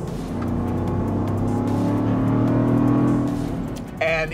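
Supercharged V8 engine of a 2023 Land Rover Defender 110 revving, a loud sustained deep roar that swells and eases back, followed by a brief sharp click at the end.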